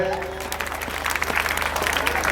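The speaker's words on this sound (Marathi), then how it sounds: "तिच्यासाठी जोरदार टाळ्या" A burst of lively applause from an audience at a school stage event, many hands clapping at once, fairly close and steady for a couple of seconds.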